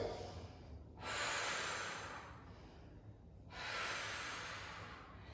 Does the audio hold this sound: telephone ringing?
no